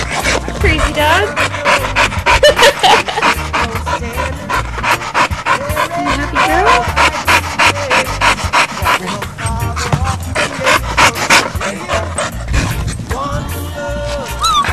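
A dog pants rapidly and heavily right up close, a fast continuous rhythm of breaths, with a person's voice occasionally heard alongside.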